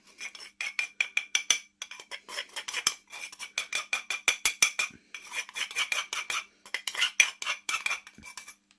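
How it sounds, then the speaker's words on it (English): Metal spoon scraping and clinking against a bowl as coffee is tipped into icing for a coffee Victoria sandwich sponge and stirred, a steady run of close, rhythmic scrapes and taps with no talking. "we'll tip the coffee"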